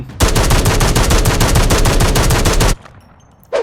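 A LAG 53 assault rifle in Call of Duty Mobile fires a long, loud automatic burst of evenly spaced shots, which then cuts off. A short sharp sound follows after a brief near-silence.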